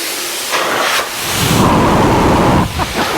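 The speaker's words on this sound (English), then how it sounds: "What we have here, they're called Master Blasters. They're actually an 8 horsepower heated drying system." A Master Blaster 8-horsepower heated car drying blower starting up: a loud, broad rushing roar of air that swells and holds steady, then dips briefly near the end, close by.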